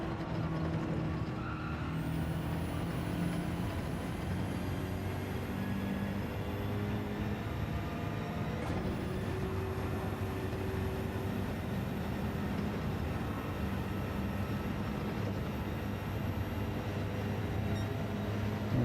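Race car engine in Gran Turismo 7 held at full throttle in fifth gear during an online daily race, a steady sustained drone with a rising whine and a brief shift dip midway, continuous and loud throughout.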